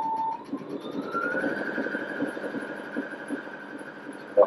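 A Brother A65 sewing machine's motor winds up with a rising whine that holds at a steady high pitch, over fast rhythmic needle chatter, close and clear with no talking.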